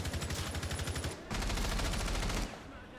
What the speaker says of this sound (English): Warden sending a few shots down towards CC or break room